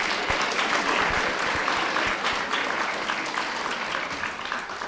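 An audience at a talk claps loudly, dense applause that stays strong and then slowly fades toward the end.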